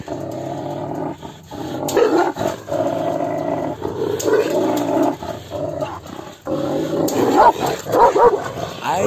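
A Georgian shepherd dog barks and growls fiercely at a wolf outdoors, repeated deep, loud barks and roaring snarls in uneven bursts, close by.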